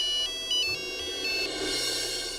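A phone ringtone chimes in bright, repeating electronic tones, moderately loud with no one speaking.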